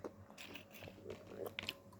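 Someone bites into and chews a chewy banana snack close up, with soft irregular crunches and wet chewing sounds over about two seconds.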